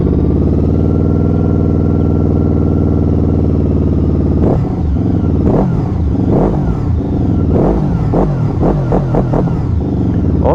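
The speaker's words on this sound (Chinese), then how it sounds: "我们先来听一下这款车的声浪" A QJmotor Flash 600 V4 motorcycle idles with a smooth, steady hum, then the engine is blipped repeatedly in sharp, loud revs that rise and drop quickly, close by.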